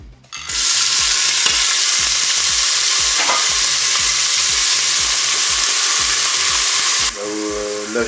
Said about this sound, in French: j'ai fait dorer mes oignons pendant 1 minute